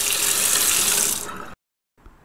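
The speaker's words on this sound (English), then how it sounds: "Now run a hot water tap and make sure it's getting nice and hot" Hot water tap running hard from a Rheem tankless water heater, a steady loud rush of water that tapers as the flow is cut, followed by a brief silence and a faint drip or clunk.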